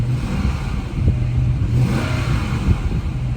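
A police auction vehicle's engine revs up close and loud, a steady mid-pitched roar rising in two pushes over a few seconds, with no talk over it.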